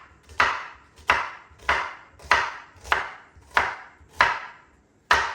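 A kitchen knife chops through a vegetable bulb on a wooden chopping board, about eight evenly spaced crisp thunks, close and clear with no talk.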